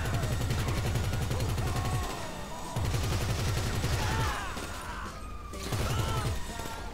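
Rapid automatic gunfire erupts in GTA V Online during a fight with police, coming as loud sustained bursts separated by short pauses, with whooshing game effects in between.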